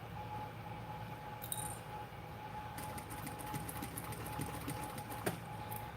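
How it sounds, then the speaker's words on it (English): A sewing machine runs steadily with a continuous mechanical whir and rapid stitching rhythm, a few light clicks and taps over it. "now I'm going to go ahead and stitch it on."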